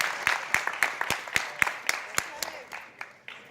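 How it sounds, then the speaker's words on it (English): A small audience at a New York public-safety event claps in a brief round, with sharp separate claps at a steady rhythm fading slightly toward the end, close and moderately loud. "Let's give this man a good round of applause."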